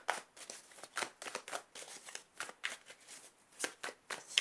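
An oracle card deck is cut and shuffled, giving a quick run of crisp riffling flicks and soft card slaps in irregular bursts, close and fairly quiet with no talking.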